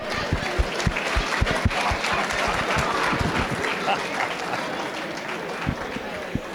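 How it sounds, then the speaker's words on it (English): A room of participants at a Rotary training session applauds themselves, loud dense clapping with a few sharp nearby claps and some voices mixed in, easing slightly toward the end. "And give yourselves a big round of applause"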